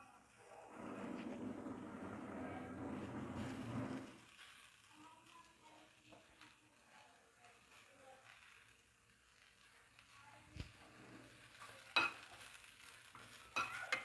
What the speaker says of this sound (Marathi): मी एक कांदा कट केलेला आहे. त्या कांद्यालाही हलकंसं भाजून घेऊया.